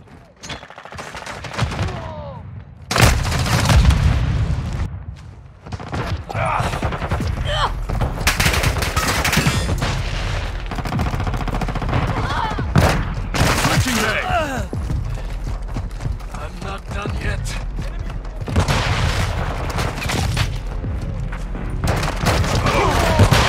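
Call of Duty Modern Warfare 2 combat with loud, dense gunfire: rapid automatic bursts and single shots, punctuated by booms, with voices shouting during the firefight.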